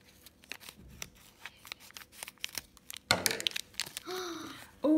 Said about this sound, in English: Can you use my scissors